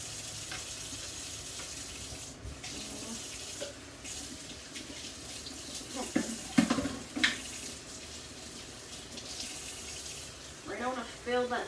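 Tap water runs steadily from a faucet into a sink while a cup is rinsed, a continuous splashing wash with a few clinks of the cup near the end.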